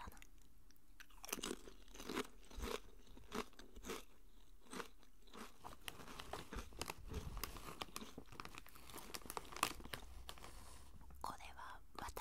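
Calbee potato chips in the Nagano regional flavor crunched and chewed up close, with crisp bites and crinkly bag rustles repeating throughout, and soft whispered speech mixed in.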